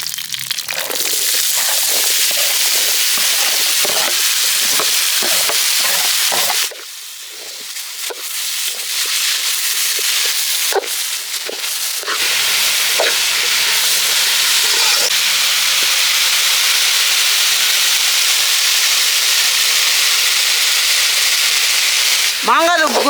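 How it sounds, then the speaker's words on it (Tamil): Raw mango thokku frying with mustard seeds and curry leaves in a village-style kitchen, giving a loud, steady sizzle and hiss that briefly dips then swells again, with faint stirring scrapes and no talk. "மாங்காய் தொக்கு வந்து இப்போ நம்ம செஞ்சுக்கிட்டு இருக்கோம்"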